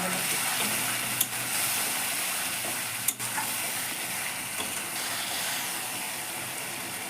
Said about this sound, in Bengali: আমার সসটা ফুটে গেছে।